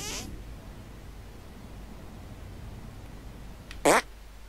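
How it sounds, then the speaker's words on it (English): A cartoonish fart sound effect from the South Park: The Stick of Truth video game, one short loud burst near the end following a brief squeal at the start, with quiet game ambience in between. "Make your fart detonate behind me."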